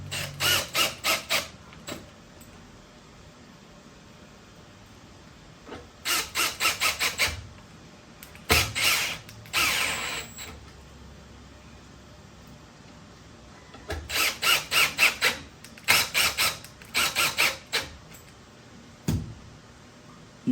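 Short bursts of rapid ratcheting clicks, apparently a driver running screws in, while a Milwaukee PACKOUT mount is fixed to a wall; close, crisp clusters separated by quiet pauses.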